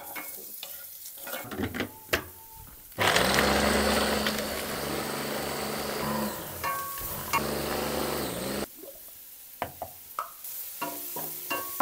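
Onions sizzle loudly in hot ghee in a pan, a dense steady frying hiss cooking Palembang nasi minyak, with stirring clatter and utensil clinks before and after the burst.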